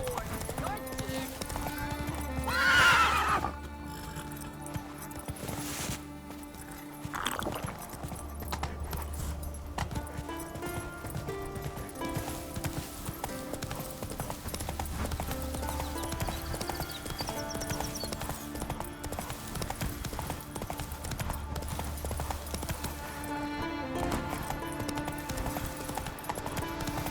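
In The Witcher 3, a horse's hooves clip-clop at a running pace through long stretches, mixed with game music and effects and occasional talking, with a brief whinny early on.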